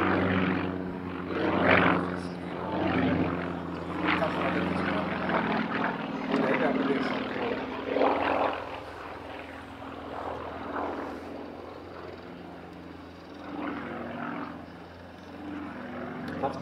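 Sukhoi Su-31 aerobatic plane at an air show in Dala-Järna, its propeller engine droning and surging as it maneuvers overhead, rising and falling in pitch while a commentator talks over it.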